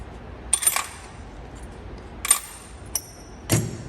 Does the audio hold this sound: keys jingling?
yes